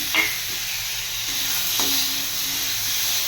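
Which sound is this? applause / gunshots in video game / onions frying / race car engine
onions frying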